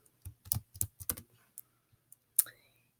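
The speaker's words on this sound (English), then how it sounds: "So I'm going to type that in here." Typing on a computer keyboard while entering a website name; a quick burst of close, soft key clicks, then a pause and a final sharper keystroke.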